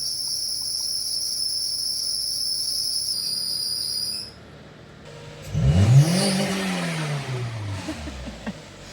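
A car engine that is giving off heavy smoke idles, then a brief rev swells up and settles back, with insects chirping steadily at the start.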